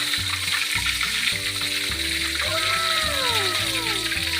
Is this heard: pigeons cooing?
no